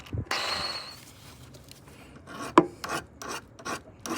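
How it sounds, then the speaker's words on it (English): A hand file rasps around the cut edge of a rusty brake pipe on a Mercedes R230 SL55, making short, gritty metal-scraping strokes close up with brief pauses between them. "go around the edge with the file"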